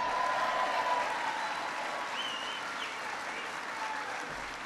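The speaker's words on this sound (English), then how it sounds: "so give him a big round of applause." An audience applauds a guest at a presidential event on hiring veterans, steady clapping from a large crowd that holds evenly for several seconds at moderate distance.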